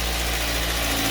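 A 2000–2007 Ford Focus engine idling just after start-up with a newly changed alternator, a steady, even rumble with a low hum, close and constant with no voices.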